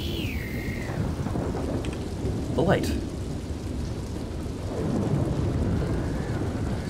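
A heavy thunderstorm in the video game D.R.O.N.E, set to maximum wind, lightning and precipitation: steady roaring rain with a rolling thunder rumble and a sharp crack, while someone talks briefly over it.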